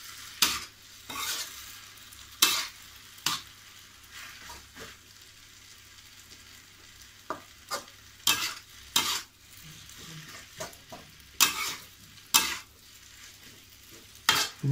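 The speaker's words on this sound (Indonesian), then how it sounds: "Aduk terus sampai merata." Kwetiau flat rice noodles sizzle in a pan while a utensil stirs and scrapes them in repeated sharp strokes over a steady low frying hiss, close by and without voices.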